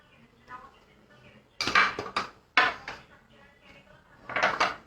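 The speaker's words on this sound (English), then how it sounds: "I would be mixing all the ingredients together in one bowl. I am putting in the refined flour, cocoa powder and icing sugar." Dry ingredients of refined flour, cocoa powder and icing sugar are stirred in a bowl, with a utensil knocking and scraping against it in several loud bursts separated by quieter pauses.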